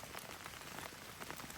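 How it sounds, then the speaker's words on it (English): Steady rain falls on a tarp shelter at a lakeside camp, a dense close patter of drops spread evenly through the short stretch with no voices. "literally in the rain, with the rain coming down, is kind of a challenging condition to start a fire in"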